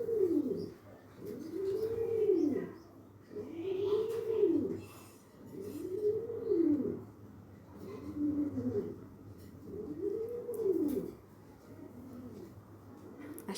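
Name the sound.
pigeon cooing nearby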